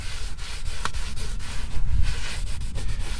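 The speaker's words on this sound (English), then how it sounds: "we're just going to scrub the seats down here" A small High Tech VLB1 leather brush scrubs dirty car leather seats up close, giving quick repeated rasping strokes in an uneven back-and-forth rhythm with no talk over it.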